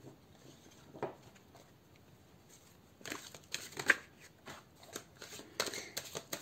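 Playing cards being shuffled for a card draw, soft papery riffles and flicks in scattered bursts, close but quiet, with a faint isolated rustle early on and denser handling later.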